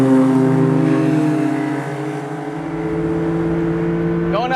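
A small car's engine drones hard and steady at high revs while climbing uphill flat out, heard from inside the cabin with a strong sustained tone that dips slightly and recovers.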